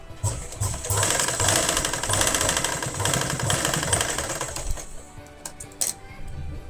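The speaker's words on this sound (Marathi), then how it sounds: "पुन्हा एकदा टीप देऊन घेऊयात" Sewing machine stitching a kurti shoulder seam in a fast rattling run, then slowing into a few short separate bursts near the end, close and clear.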